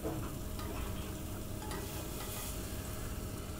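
A sauce is whisked and stirred quickly in a pan to keep lumps from forming, giving a continuous dense scraping and swishing, close and steady throughout, with no voices.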